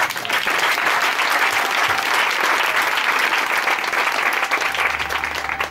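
Steady, full applause from a church congregation at a Sunday service acclaiming the Lord, dense clapping filling the room from start to finish with a slight fade at the end.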